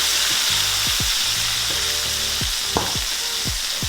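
Flour-coated ribeye steak searing in a hot frying pan, a loud close sizzle running throughout, with a sharp clank from the pan or utensil around the flip and scattered pops, no talking.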